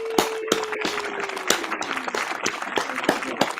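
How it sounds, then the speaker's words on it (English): A small group claps for a podcast guest, with scattered, uneven hand claps standing out as distinct sharp hits over a low background murmur. "So everybody give her a standing ovation. Round of applause,"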